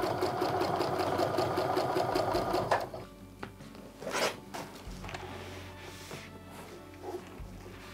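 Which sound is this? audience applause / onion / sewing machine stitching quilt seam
sewing machine stitching quilt seam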